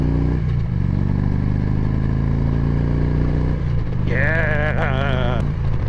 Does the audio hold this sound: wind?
no